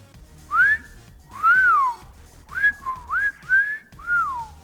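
Whistled tones voicing the alien Copper Kidd, who speaks only in whistles: six clear, close, melodic phrases rising and falling in pitch, a couple of long swoops then shorter chirpy ones, alone with no talk.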